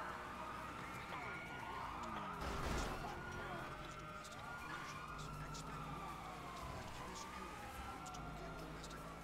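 Police sirens wail continuously in GTA 5 during a chase, with rising and falling tones layered over engine and traffic noise, loud and steady throughout with a louder swell near the start.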